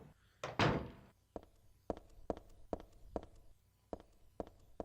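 A door thuds shut in the survival horror game Silent Hill 3, one heavy slam followed by a run of evenly spaced, fairly close thumping steps.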